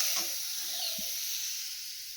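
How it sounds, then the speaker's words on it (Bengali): Flat beans, eggplant and potato fry lightly in a pan, producing a steady, close hiss and sizzle with a couple of brief soft knocks near the start. "তো এখানে হচ্ছে সিম, বেগুন, আলু দিয়ে একটা তরকারি হবে, একটু ভেজে নিচ্ছি হালকা করে এগুলো।"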